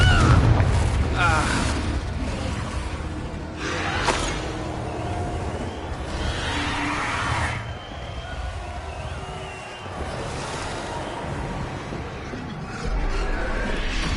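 Confringo fire spell blasts cast in the Hogwarts Legacy video game, heavy booming explosions with crackling debris at several points, loud and close over continuous game music and ambience.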